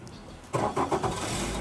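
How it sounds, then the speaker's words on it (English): A cold powerboat engine is started first thing in the morning, with a brief cranking churn before it catches and settles into a loud, steady running note. "So now we've checked the engine, we can turn it on."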